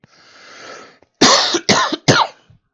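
After a soft breathy hiss, three sharp coughs burst out close by in quick succession.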